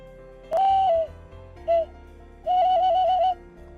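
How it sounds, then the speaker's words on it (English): Clear, tonal bird calls ring out in a Geopark's natural setting: a long warbling note, a short chirp, then a longer trilled phrase. The calls sound fairly close against a quiet background. "the birds and their chirping."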